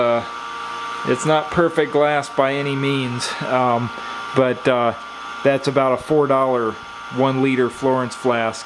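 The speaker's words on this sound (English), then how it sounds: "Attached to tubulation to a vacuum system, which is making noise. You can hear it in the background." A vacuum pump system, connected by tubulation to a cheap Chinese borosilicate one-liter Florence flask used for xenon discharge experiments, runs continuously as a steady mechanical whine and hum beneath someone talking close up.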